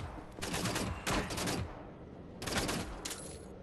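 Gunfire in the shooter Wolfenstein: The New Order crackles in two dense automatic volleys, one early and one late, loud and close with a reverberant tail and a quieter gap between them.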